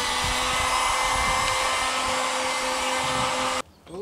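A heat gun blows steadily on a dented body panel of a Lexus LS400, a loud, even, close-up whooshing hum with a faint whine that cuts off abruptly near the end.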